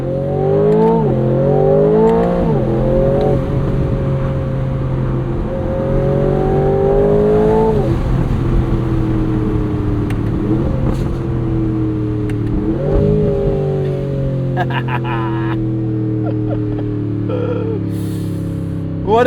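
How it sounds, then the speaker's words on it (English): A 2026 Aston Martin Vantage S roadster's 670hp V8 revs hard with its exhaust opened in Sport Plus and manual mode, climbing through about four loud, close, rising pulls with sharp gear-change dips between them. "Let's put this into Sport Plus. That'll open up the exhaust"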